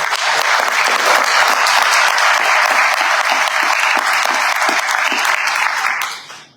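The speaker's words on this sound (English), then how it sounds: "A big round of applause for them." A large audience at a Silicon Valley health care event claps loudly and steadily in a dense, continuous roar that holds for about six seconds, then fades out quickly at the end, with no talking.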